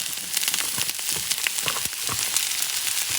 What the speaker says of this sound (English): And I'm going to saute a little bit.